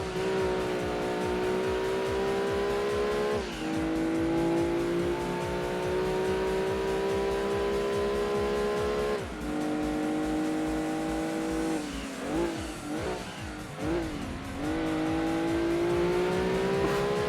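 Race car in Gran Turismo 2 with a loud sustained engine drone that climbs through the gears, drops sharply on shifts and braking, and gives brief tire squeal in the corners.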